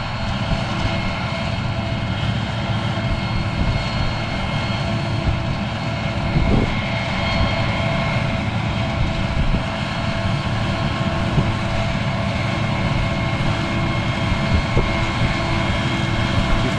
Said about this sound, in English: there is no mistaking the sound of a 9960 or 65 with that high-pitched whine of the fan